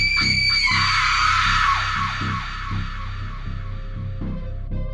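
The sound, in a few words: screams in the dark in a horror story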